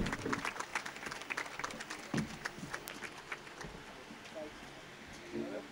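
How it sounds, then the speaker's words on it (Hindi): Applause at a ceremony welcoming a guest, a scattered burst of clapping from a crowd that thins out over a few seconds, fairly faint. "इनके लिए एक जोरदार ताली हो जाए।"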